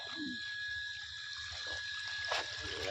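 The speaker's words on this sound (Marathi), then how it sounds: "येवाय हात धुवून घे" Hands being washed under running water at a farm, a steady watery hiss throughout with a brief louder splash near the end over a low rhythmic background hum.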